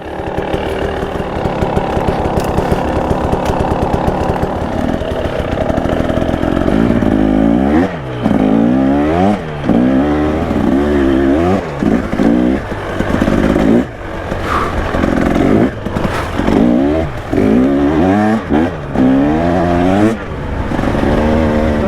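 A 2025 KTM 300 EXC motorcycle engine runs loud and close, a raspy two-stroke drone with repeated revving rises and falls and brief throttle chops, continuing throughout with no voices.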